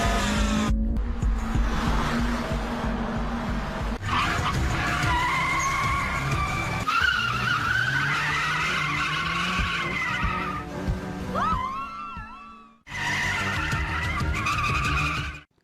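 Race cars skidding in an Initial D anime street race, including a Mazda RX-7 and a Lancer Evo: loud, continuous tire squeal and revving engines with rising and falling pitch, a brief drop to near silence, then more screeching tires.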